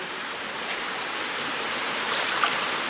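Water circulating in a closed fish-farming system gives a steady, broad rushing trickle close by, with no talk over it.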